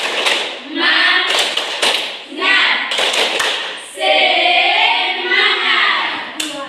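Children in a classroom do a rhythmic spirit clap, with a loud, close run of patterned hand claps and taps mixed with the group chanting along.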